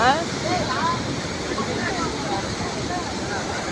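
Water from Vattakadu lake pours over a waterfall in a steady, rushing roar, close and continuous, with faint chirping sounds above it.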